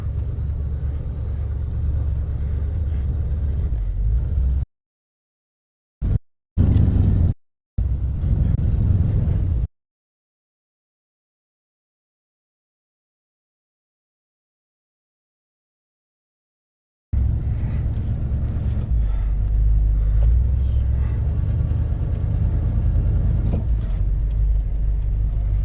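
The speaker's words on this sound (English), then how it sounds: "So it is definitely running on old gas. But it seems to fire up." A 1978 Chevrolet K20 truck engine running on old gas after sitting 15 years, a loud close low rumbling idle that cuts out into long stretches of silence before resuming.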